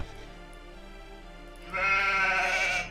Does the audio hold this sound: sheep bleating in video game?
yes